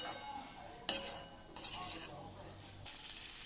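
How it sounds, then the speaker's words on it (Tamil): Cooked rice being stirred into bottle gourd rice in a pan: soft scraping and clinking of a spoon against metal, with a sharper clink near the start and a faint sizzle underneath, fairly quiet and close. "இப்போ இதில் சாதத்தை நம்ம கலந்துடலாம்."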